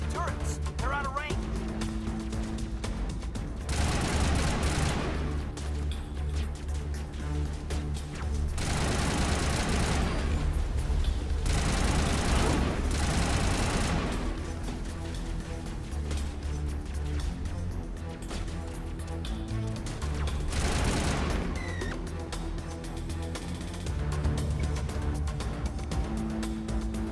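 Geth turrets fire in a Mass Effect battle, with bursts of dense, heavy gunfire repeating in several waves over a continuous low game soundtrack, and voices talking between volleys.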